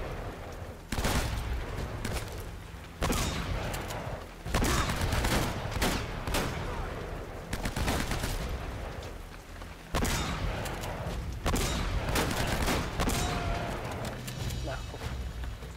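Repeated loud bursts of gunfire in the video game Uncharted 3: Drake's Deception crack in clusters, with short pauses between volleys, over steady background noise.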